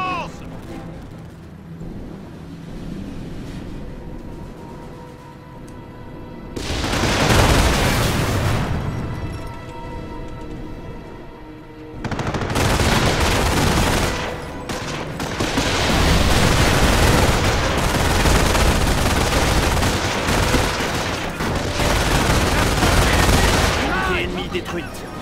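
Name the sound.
machine gun and gunfire in Company of Heroes video game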